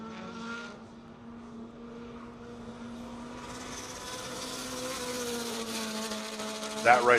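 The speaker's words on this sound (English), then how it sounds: "his turbocharged Honda Civic Si, starting his first hot lap" Turbocharged Honda Civic Si starting a hot lap in a time attack session at Road Atlanta, its engine droning with rising tone as it accelerates at a distance, ending in a sharp burst.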